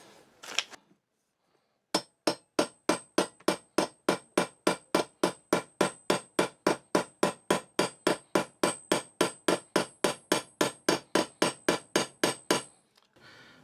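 A hammer peens a rivet over a washer on a flat hard surface while assembling a homemade battle axe head. After one early knock and a pause, about thirty sharp, ringing metallic strikes follow in a steady, even rhythm, close and alone.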